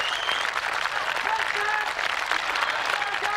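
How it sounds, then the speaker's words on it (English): Crowd at a 1992 World's Strongest Man Husafell stone carry cheers and applauds loudly and continuously, a dense roar of clapping and shouting with scattered whistles throughout. "The crowd is shouting for him."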